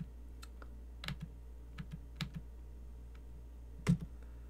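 Keyboard typing at a computer while entering a network access-list command, scattered individual keystrokes spaced out over a few seconds, one louder key press near the end, over a steady low electrical hum.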